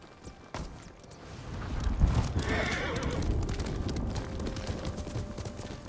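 Horse hooves clip-clopping at a gallop in the video game Ghost of Tsushima, with a whinny, steady and fairly loud throughout over ambient outdoor game sound.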